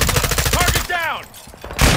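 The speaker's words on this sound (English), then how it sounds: "Taking effective fire!" Rapid gunfire bursts in the video game Call of Duty Modern Warfare II during a team deathmatch, loud and dense at the start, then a brief pause and another burst at the end, with a synthetic game voice between.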